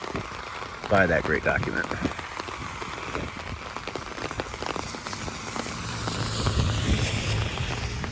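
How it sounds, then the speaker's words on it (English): Steady rain from Tropical Storm Elsa falling in Estero, Florida, a dense continuous patter on surfaces that builds slightly toward the end, with someone talking over it. "Rain is starting to get a little heavier."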